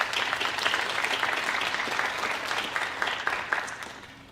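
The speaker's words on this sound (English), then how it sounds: "I first would like to give you a round of applause for your time and dedication to this group of young adults" Sustained applause from an audience at a National Honor Society ceremony for young adults, a dense steady patter of many hands clapping throughout, moderately loud and tapering slightly toward the end.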